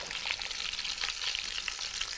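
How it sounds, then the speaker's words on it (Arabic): Whole garlic cloves sizzle in hot oil while being stirred, giving a steady, close, crackling fry with a dense hiss and no pauses. "فهنضيفه وهو بيتقلب كده يتحمروا برضو كم فص توم."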